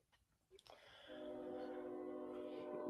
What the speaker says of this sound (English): Train messed me up.